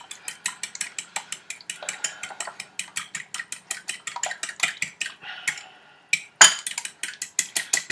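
Chicken breading stirred briskly in a bowl, a quick run of light scraping and clinking strokes with a sharper knock near the end, close and alone.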